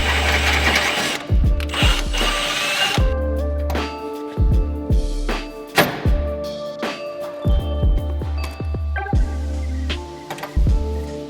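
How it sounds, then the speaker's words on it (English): Riv nut being installed into a bracket hole during a car build: repeated mechanical whirring bursts from a power tool, each ending in a sharp clunk, close and fairly loud, with brief pauses between cycles. "I'm just going to go ahead and add in a riv nut in that hole"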